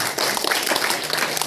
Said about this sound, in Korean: 우리 박수로 좀 환영해 주시면 감사하겠습니다.